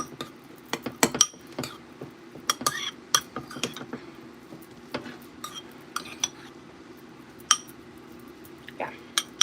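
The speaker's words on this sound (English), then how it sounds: "I'm gonna just stir that into the whole thing." Rice stirred into a quiche filling with a utensil, producing irregular metallic clinks and taps against the bowl, scattered throughout under intermittent talking.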